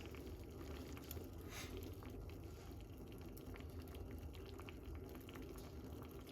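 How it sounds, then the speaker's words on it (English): A pot of water with parsley, lemon, cloves and ginger simmers quietly, giving a faint, continuous bubbling and watery hiss that stays steady and low the whole time. "we're making it simmer down"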